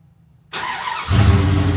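Half a second of quiet, then a pickup truck engine cranks and catches, settling into a loud, rumbling idle close by.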